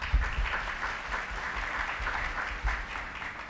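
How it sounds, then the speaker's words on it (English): A conference hall audience at an international chartered accountancy students' conference applauds visiting delegates from India, Pakistan and Bangladesh, with steady, full-room clapping and a low rumble beneath it. "let us take a moment and applaud to appreciate their presence here today"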